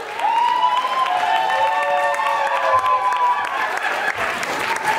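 A crowd applauds and cheers for dancers at the Lindy Hop Invitational Jack and Jill finals of the Tantsklass Cup 2017, with sustained clapping and cheering mixed with tonal music and voices.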